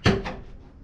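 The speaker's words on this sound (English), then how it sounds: "Open the door and shut it." A tire carrier door on a Jeep JKU swings with a sharp close-up knock followed by a softer second thud, then a fading rattle.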